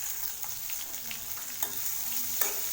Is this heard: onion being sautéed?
yes